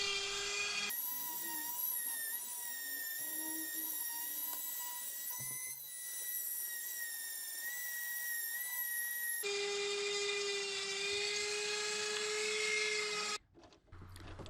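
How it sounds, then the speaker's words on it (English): A small buffing wheel spinning on a lathe while polishing a shamrock ring with an inlay, a steady high whine that cuts out briefly and then resumes, with no talk. "When you're polishing the inside of the ring with this buffing wheel"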